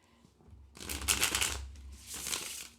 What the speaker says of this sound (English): Let's see how it riffles and bridges.